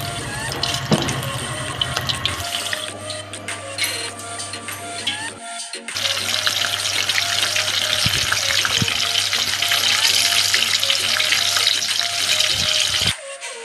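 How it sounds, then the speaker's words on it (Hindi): Food deep frying in hot oil in a home kitchen, a loud steady bubbling sizzle that runs on continuously with a brief break and a low hum underneath, no voices. "डीप फ्राई करी"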